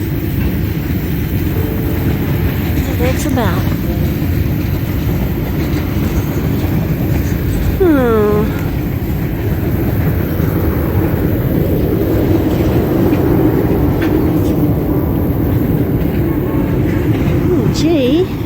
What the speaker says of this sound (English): She's a big train. Okay, long train.